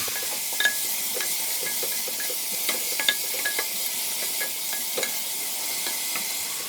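Onions sauté in hot oil for a fish biryani, giving a steady, moderate hiss with scattered light clicks and scrapes as they are stirred around the pan. The sound is close, with no talking.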